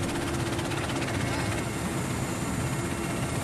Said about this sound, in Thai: เราได้บินอยู่เหนือเมืองพามิรา โดยเฮลิคอปเตอร์